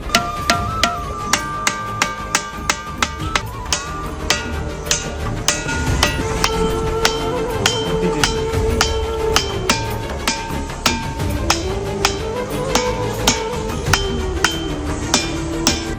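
Tintin stone, a rock in Chhattisgarh, India, struck repeatedly with a hard object, giving sharp metallic clinks that ring like a bronze vessel, in a dense, loud rhythmic series.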